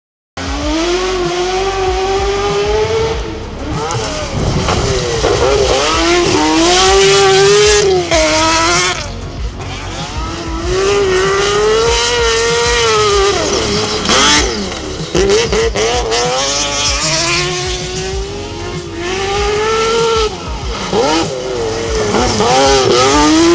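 Lancia Stratos rally car engine driving hard, loud and close, revving up through the gears in repeated rising sweeps with brief lifts between, nothing else competing with it.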